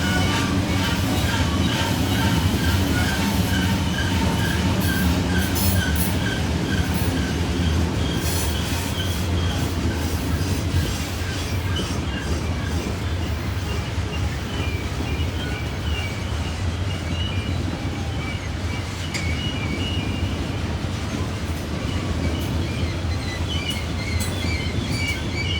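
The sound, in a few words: coal train with six pusher locomotives easing downhill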